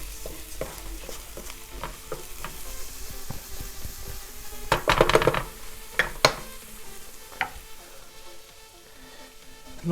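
Onions with spices sizzling in hot oil in a frying pan while being stirred for shakshuka, a steady fry hiss broken by scraping and clinking of the utensil against the pan, busiest in the middle.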